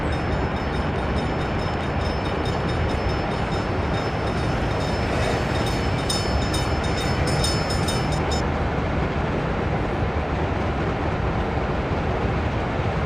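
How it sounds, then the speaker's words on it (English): A steam-era train in a railway management video game runs with a loud, continuous rumble of wheels and rolling stock, steady throughout, with a high hiss that drops away partway through. "This train is louder than me."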